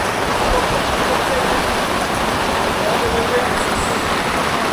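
Torrential rain pours down on a dark, windy, cold island near a water taxi stand, a dense, steady roaring hiss that stays constant throughout.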